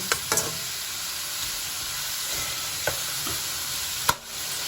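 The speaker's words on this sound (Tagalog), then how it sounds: "Haluin lang hanggang mag-brown. Magkulay golden brown." Ingredients for laing frying in a pan while being stirred toward golden brown, a continuous close sizzle broken by a few sharp utensil knocks against the pan, with no one talking.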